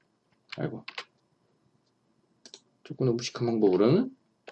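A few light clicks of computer keyboard keys, including the Print Screen key, are pressed, while a person speaks briefly in between.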